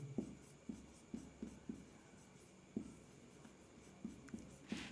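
Chalk or pen strokes on a board during a chemistry lesson, a series of short tapping and scraping marks at irregular intervals, fairly faint and close, with no talk.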